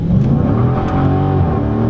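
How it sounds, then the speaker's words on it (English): A 2015 Dodge Challenger Scat Pack launching hard with its tires spinning, a loud, dense roar of engine and wheel spin that stays close and steady without a break. "I got a ton of wheel spin when I hit the gas on this thing."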